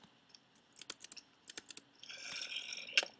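A computer keyboard spacebar and keys pressed while playing the video game Crafting Dead, heard as a series of quick, close, light clicks followed by a brief rustling burst.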